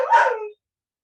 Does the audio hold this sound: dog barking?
yes